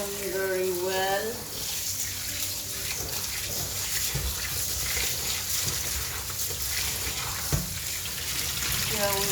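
Ingredients for mutton kacchi biryani being washed in water, with continuous sloshing and swishing close by and a few brief knocks; a voice briefly speaks near the start.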